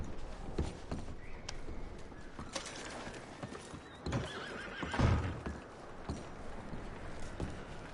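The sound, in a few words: horses neighing and hooves in video game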